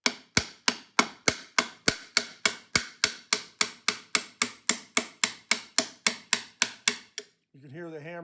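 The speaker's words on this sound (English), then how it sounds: "You can hear the hammer." Hammer tapping on a VV-IX spindle shaft held fast by old hardened oil, about twenty sharp, evenly spaced metallic knocks, close and loud, followed by a short voice at the end.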